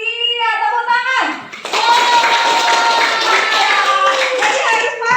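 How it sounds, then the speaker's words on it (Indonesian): Classroom applause after a student gives a correct answer, a steady run of overlapping claps from a group of pupils that follows a child's sung or drawn-out voice. "Iya, tepuk tangan."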